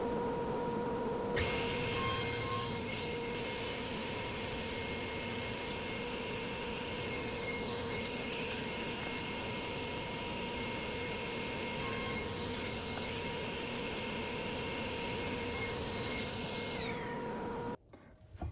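A power saw runs steadily on rosewood board edges held on a sled, a loud continuous whine with a few brief surges, ending abruptly near the close.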